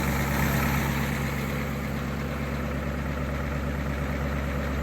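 A Ford 6.9 IDI diesel engine idles in a steady, loud, close-up rumble with a constant low drone and even clatter throughout, no voices.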